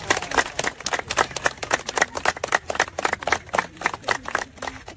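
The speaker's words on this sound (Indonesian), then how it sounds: "Tepuk tangan" A church crowd claps together at a first-stone laying ceremony, a dense, fairly close burst of hand claps with sharp uneven peaks running steadily through the moment.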